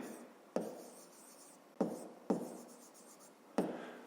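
A pen writes on paper for a maths exercise, making soft scratching strokes broken by four sharp taps as the pen comes down, close and quiet, with no talking.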